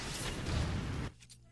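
Elemental arrow explosion in Zelda: Tears of the Kingdom, a loud, broad burst with a low rumble lasting about a second, then cutting off abruptly into faint residual sounds.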